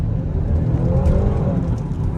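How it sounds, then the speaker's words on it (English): A 2017 GMC Acadia All Terrain engine accelerates, a steady, moderately loud engine drone heard from inside the cabin over a short stretch. "let's give it some gas"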